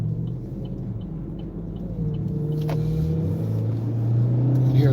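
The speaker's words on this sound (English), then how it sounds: "You can hear the motor revving up." A car engine hums and rises in pitch as it revs while driving in traffic near a double left turn lane, a steady close rumble that climbs gradually, heard from inside the car without talk.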